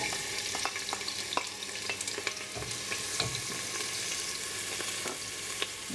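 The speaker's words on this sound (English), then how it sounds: "now I'm going to fry up the onion" Onion frying in coconut oil inside a pressure cooker, a constant crackling sizzle with frequent spoon scrapes and taps against the metal pot, close and without speech.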